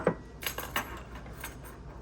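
A metal measuring spoon clinking against a container while measuring nutmeg, a few light, faint taps spread out over a quiet background.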